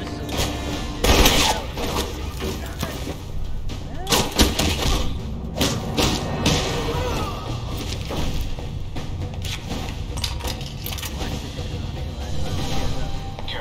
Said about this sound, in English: I fired a missile.